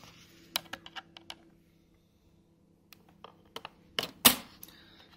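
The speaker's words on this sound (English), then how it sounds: "So you just put a little screwdriver" A small screwdriver prying the plastic cover off a Compaq 8510p laptop, sparse sharp plastic clicks and taps in quick clusters, separated by a quiet pause, with one louder snap near the end.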